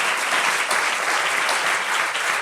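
An audience at a panel discussion applauds a speaker being introduced, a short burst of dense, even clapping that stays loud for a couple of seconds.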